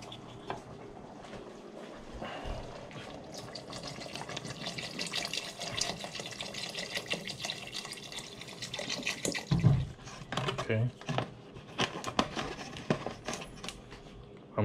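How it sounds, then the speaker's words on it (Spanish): Water pouring into a pot while making catfish soup, a continuous soft splashing stream running throughout, fairly faint, with a few clunks and knocks of the pot near the end. "vamos a ponerle agua"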